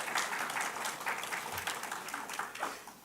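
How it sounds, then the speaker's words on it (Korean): A church congregation at a Sunday service applauds after a prayer, a soft, steady patter of many hands heard from a distance and fairly quiet throughout. "우리 기도의 응원의 박수 한번 치도록 하겠습니다"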